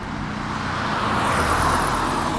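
Road traffic rolls past a college campus in Norwich, Connecticut, as a steady, fairly loud wash of tire and engine noise with a gradual swell as vehicles go by, and no voices.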